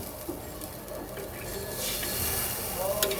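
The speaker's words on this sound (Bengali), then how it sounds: "এই আমি ঝোলের জলটা দিয়ে দিলাম" Water pours into a tengra fish curry with potatoes and long beans in a pan, a soft patter and splashing swell rising over a few seconds, close by and fairly quiet.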